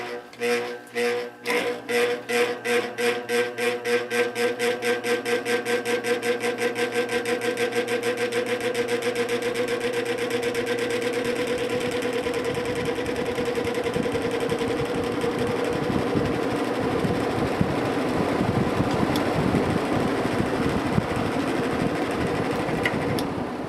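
A vintage 1950s GE window ventilator fan starting up on low, its motor beginning with a rhythmic pulsing that speeds into a steady whirring hum with light rattles, close and alone.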